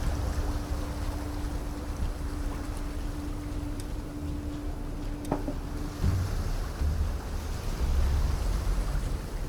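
Water rushing steadily against the hull of a Karvi ship under sail in the video game ASKA, a constant broadband wash with a faint hum and a slight swell near the end, with no voices.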